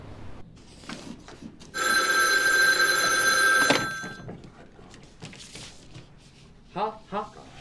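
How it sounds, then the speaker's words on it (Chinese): A telephone bell rings loudly and steadily for about two seconds in the middle, with scattered voices and movement before and after, and a few short speech sounds near the end. "西安市市长杜清时打来电话"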